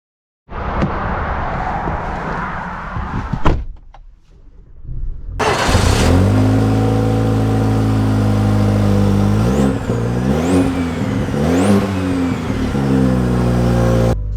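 A 2024 GMC Canyon AT4 pickup truck's engine starts and drives off, a low rumble that settles into steady running with a few rising and falling revs as it shifts through gears, heard close from inside.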